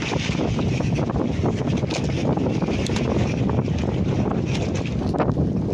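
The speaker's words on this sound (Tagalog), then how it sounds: "Biglang lumakas ang hangin mga idol." Strong wind buffets the microphone in a steady, heavy roar, with low rumbling gusts and no voices.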